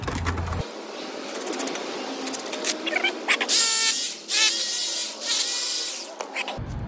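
A power driver sets screws into a railing post during an onsite repair. It whirs in several short, close bursts, and rattling and handling noises fill the gaps between them.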